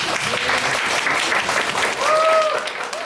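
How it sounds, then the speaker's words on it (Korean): An audience breaks into steady applause welcoming a speaker at a national volunteer training lecture, dense clapping filling the room, with a brief whistle-like tone rising over it near the end. "박수로 환영하면 좋겠습니다"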